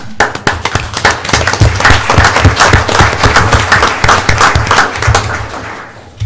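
Loud, sustained applause fills a town meeting as residents clap for cleanup volunteers, a dense roar of many hands continuing steadily for several seconds before tapering off.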